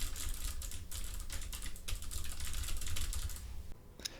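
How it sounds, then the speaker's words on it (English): Fast, continuous clicky typing on a mechanical keyboard with MX Blue switches, rapid crisp keystrokes heard close and alone at a desk, ending with a few isolated key presses. "I do have a mechanical keyboard with the MX blue switches. So here is my typing test"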